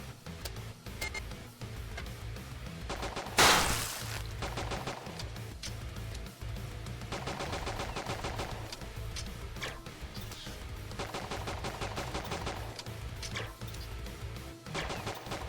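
Enemy gunfire in a tower-defense style video game, heard as bursts of rapid ticking shots with one loud crash early on, ongoing over a busy game soundscape without speech.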